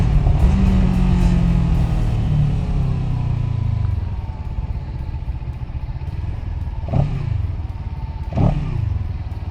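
A liquid-cooled parallel-twin motorcycle engine rumbles close by, with a deep steady note that drops back a little partway through and two brief blips of throttle near the end.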